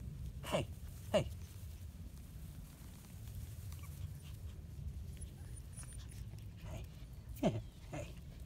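A Fox Terrier/Maltese mix puppy makes a few short, soft whimpers and yips, spaced apart, over low background rumble while a person calls to it in a coaxing voice.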